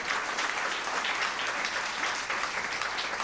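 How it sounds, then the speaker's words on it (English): Audience applause during a political speech by Senator Warren on deregulation, a dense, steady wash of many hands clapping that fills the whole stretch without a break. "Can we do a big round of applause over that?"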